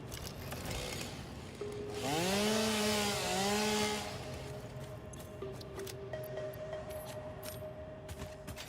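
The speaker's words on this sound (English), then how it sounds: "We need the chainsaw to get rid of this though." A chainsaw in the video game Satisfactory revs up for about two seconds with a rising, wavering whine, then cuts off, leaving a steady low hum behind.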